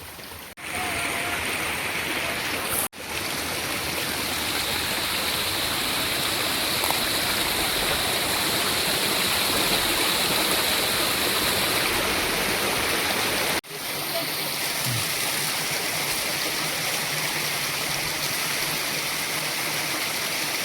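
Steady rushing water flows continuously through a hose at close range, broken by two brief dropouts, with no voices.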